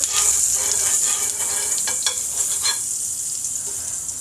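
Butter sizzles and hisses steadily on a hot griddle, a close, continuous frying crackle with faint stirring scrapes.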